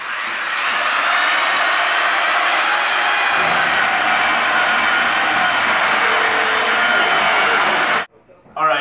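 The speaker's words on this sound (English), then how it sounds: "I'm using like an 80 grit sandpaper on the thing, on the belt sander" A belt sander running 80 grit sandpaper over a wooden desk gives a loud, steady high-pitched motor whine. It drones nonstop for about eight seconds, then cuts off abruptly.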